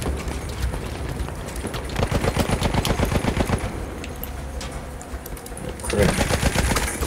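Rapid bursts of automatic gunfire and scattered single shots from Battlefield 1 multiplayer battle combat, loud and dense throughout, with a heavier flurry of shots near the end.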